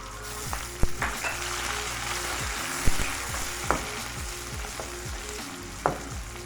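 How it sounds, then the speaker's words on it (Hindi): Sliced onion frying in oil in a pan for an aloo baingan sabzi, a steady broadband sizzle with a few sharp clicks and knocks of a spoon scattered through, no voices. "प्याज को ऑयल में फ्राई हुए तकरीबन 3 से 4 मिनट हो गए"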